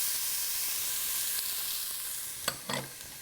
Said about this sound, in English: and add the onion